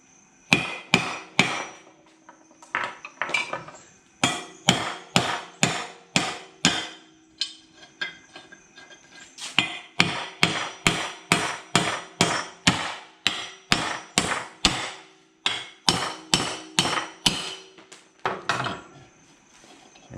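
A hammer strikes a Jeep CJ7 front brake rotor again and again to knock the hub free, giving loud, close metallic blows in fast rhythmic runs with brief pauses and faint ringing, and no talk.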